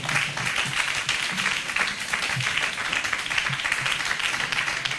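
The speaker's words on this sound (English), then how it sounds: "You will keep clapping." At a university summit, an audience keeps up a continuous wash of applause, many hands clapping steadily with a few louder, rhythmic claps standing out, moderately loud and without any speech.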